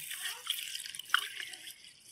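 Water is poured over rice in a bowl to soak it, a light trickling and splashing close by with a few small drips, fading out near the end.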